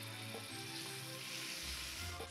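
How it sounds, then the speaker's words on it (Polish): Pork loin and thick-cut shallot fry gently over low heat in a pan, giving a soft, continuous sizzle with faint stirring, close and quiet. "Mięso się smaży"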